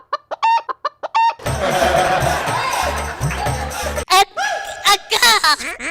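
A rooster and chickens cluck in short rhythmic bursts during a comedy stage skit, then a loud crowd-like wash of noise, followed by more close clucking and fowl calls.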